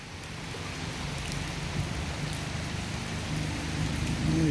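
Steady rain pours down onto a road and surfaces as a storm front passes, a dense continuous hiss with no voices, growing slightly louder toward the end.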